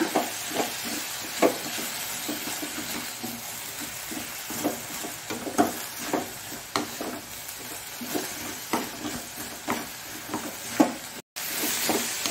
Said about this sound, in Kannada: ಹಳದಿ ಹಾಕಿ ಸ್ವಲ್ಪ ತಿರುಗಿಸ್ಕೊಳ್ಳೋಣ